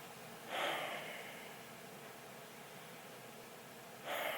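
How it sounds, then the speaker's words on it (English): Two loud, sharp breaths picked up by a camera's auto gain, one near the start and one near the end, over a hissy quiet background with no talk. "when I walk, you actually hear me breathing."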